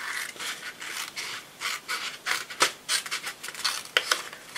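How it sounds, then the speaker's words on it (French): Cardboard being cut by hand for a false-book gift box, a rapid series of short, close rasping strokes. "Je viens couper."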